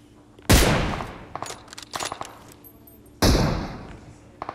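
Two loud, close gunshots in PUBG ring out a few seconds apart, each with a sharp blast and a decaying tail, separated by smaller clicks and thuds.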